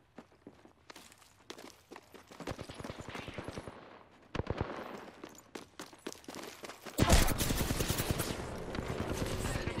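Gunfire erupts in a video game shootout, scattered single shots and rapid bursts that swell into a loud, dense barrage toward the end, alongside hurried movement sounds.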